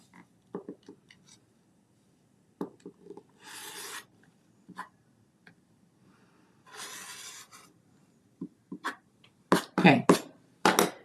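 Fabric being trimmed for a quarter inch seam at a sewing table: short rasping snips and cuts come in scattered bursts, with two longer scraping passes, under a voice talking intermittently.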